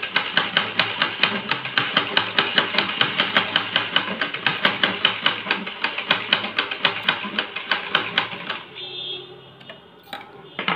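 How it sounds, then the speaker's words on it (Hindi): A half shuttle sewing machine stitches with a rapid, steady mechanical ticking rhythm for about eight seconds, then slows and stops. The clatter is close and clear, and someone talks faintly at points. "ये हमारी हाफ शटल मशीन है"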